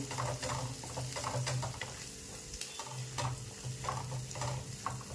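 Curry leaves dropped into hot oil for a spicy Vidarbha-style amti give off a steady, close sizzle that runs the whole time, with soft stirring scrapes and no voices.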